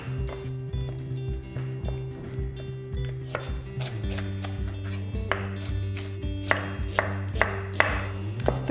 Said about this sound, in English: I'm going to chop it up really finely